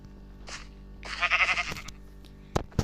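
A Minecraft sheep bleats in a video game: a short bleat, then a longer wavering one, followed by a few soft game clicks and thuds.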